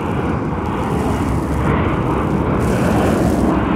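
A low-flying airplane passes right overhead on its approach to land, a loud steady engine roar that fills the whole stretch with no talk.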